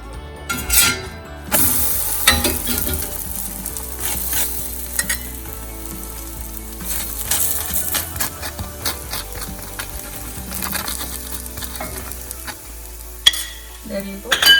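Garlic butter spread over naan in a hot pan sizzles and fries steadily, with scraping and stirring strokes and occasional light clinks of utensil against the pan, all fairly close with no talking.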